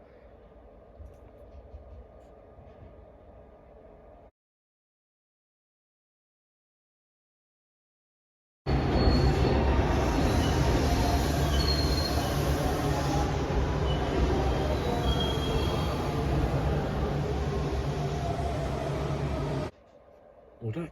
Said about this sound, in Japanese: 東武鉄道の両毛号200系、